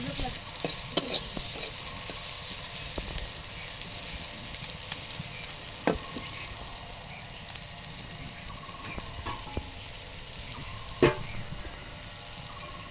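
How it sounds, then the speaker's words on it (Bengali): Panch phoron spices, garlic and onion fry in a pan, a soft continuous sizzle broken by sharp scraping strokes of a stirring spoon at irregular intervals. "পাঁচফোড়ন মশলা থেকে শুরু করে রসুন পেঁয়াজ সম্পূর্ণটা আর কি ভালোভাবে ভাজা হয়ে গেছে"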